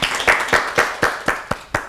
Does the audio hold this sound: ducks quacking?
no